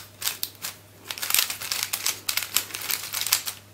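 Transparent plastic Zhanchi speed cube being turned by hand, a rapid series of close, crisp clicks and clacks in irregular bursts, with no speech.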